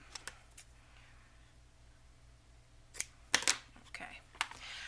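Scissors trimming paper for an altered mini composition book, a few sharp close snips and crisp cuts clustered toward the end after quieter rustling, with a speaking voice present.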